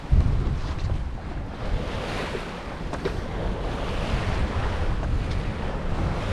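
Wind and waves at sea aboard a sailboat crossing the Atlantic in about 10 knots of wind with a reefed main, steady rushing wind noise and broad wave wash throughout, with no talking.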